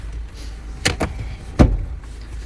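Door of a 2014 Chevrolet Captiva Diesel facelift SUV being opened, giving two quick close mechanical clicks and then a louder latch clunk with a low thump, with no talk.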